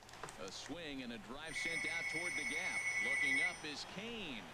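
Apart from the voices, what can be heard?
telephone ringing in the house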